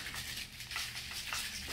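Dry oats rattling inside a Magic Bullet blender cup with the lid screwed on, shaken like a maraca in a steady, close, fairly loud swishing rhythm, with no talking.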